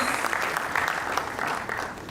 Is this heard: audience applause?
yes